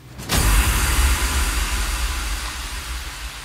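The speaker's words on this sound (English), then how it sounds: "Then some more impact crash sounds." An impact crash hit in a progressive house track built in FL Studio, landing sharply with a deep booming low end and a wash of bright noise that slowly decays across several seconds, heard alone.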